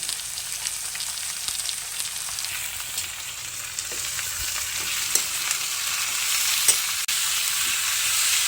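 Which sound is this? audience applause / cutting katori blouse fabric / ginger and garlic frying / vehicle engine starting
ginger and garlic frying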